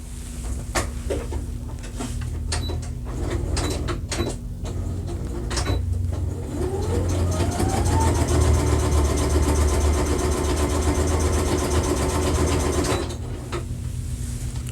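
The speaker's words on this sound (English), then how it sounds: "Let's go ahead and sew down both sides of the tabs." A sewing machine stitches down the edges of fabric tabs for a pickleball bag, a close steady mechanical whir with a rapid needle rhythm that runs for several seconds after a few handling clicks and clacks, with no talking.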